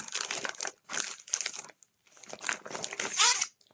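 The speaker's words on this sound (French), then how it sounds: "on va commencer le déballage" Plastic packaging from a parcel of cross-stitch supplies crinkles and rustles close up in several bursts separated by brief pauses.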